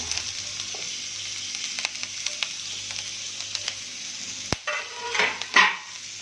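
Carrots and capsicum sizzle steadily in a pan on a low flame for quinoa upma, a close, continuous fry with a few stirring scrapes and a sharper burst of sizzling near the end.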